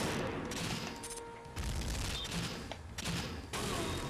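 Gunfire in the video game Nightfire on the Snow Blind map, with dense, continuous bursts of shots and booms filling the whole stretch, loud and sustained with brief dips, no talk.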